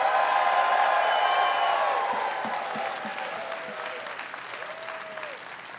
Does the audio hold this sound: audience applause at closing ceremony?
yes